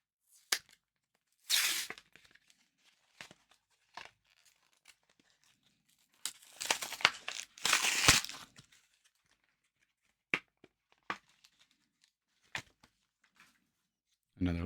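Plastic and foil crackle and tear as a Pokémon card blister pack is ripped open, in a few loud, close bursts separated by quiet gaps and small clicks, with someone talking in between.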